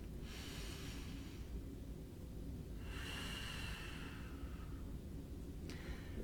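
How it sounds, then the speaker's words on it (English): Slow, audible breaths during a gentle pilates exercise: two long airy exhales, then a shorter one starting at the end, soft and close with no talking. "And breathe."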